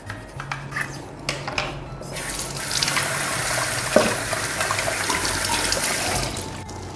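Tap water rinsing Angel Juicer parts in a sink opens with a few rubbing and scrubbing knocks, then settles into a steady rushing stream of water with brief clatters of parts, close by and without speech.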